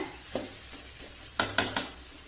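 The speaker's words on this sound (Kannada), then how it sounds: "ಮಾಡಿ ಇಟ್ಕೊಂಡಿರೋ ಅನ್ನ ಹಾಕ್ತಾ ಇದ್ದೀನಿ" Cooked rice tipped onto melted butter on a hot tawa for street-style tawa pulao, giving a soft sizzle with a few sharp scraping knocks near the end; close, moderately quiet, no talking.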